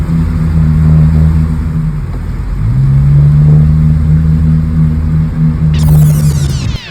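A Honda Brio with a cutback exhaust revs close by, a loud droning engine note that dips briefly, then climbs back and holds a steady hum, ending with a sharp rising whine.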